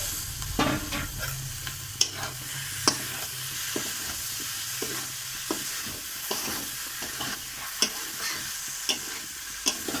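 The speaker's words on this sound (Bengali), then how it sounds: "এবার আমি এখানে সেদ্ধ করে রাখা এঁচড়গুলো দিয়ে দিচ্ছি।" Boiled jackfruit with meat masala spices sizzles and fries in a pan, with a constant hiss broken by several sharp spatula knocks and scrapes as it is stirred.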